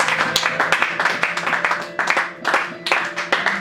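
A church congregation claps during a Sunday service, with dense rhythmic clapping that swells and dips across a few seconds and a voice faintly mixed underneath.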